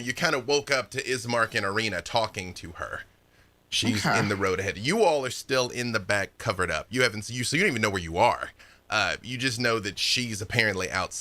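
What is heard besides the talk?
No everyday noise stands out behind the speech.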